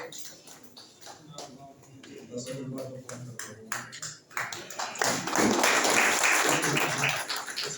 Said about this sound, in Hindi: हमारे केवल किसान भाई तालियों के साथ स्वागत कीजिए